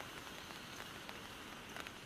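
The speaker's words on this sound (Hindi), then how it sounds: "बारिश तो बहुत तेज आ रही है, बारिश रुकेगी नहीं आज।" Heavy rain falls on a forest campsite in India, a dense, continuous patter heard at low level with no voices.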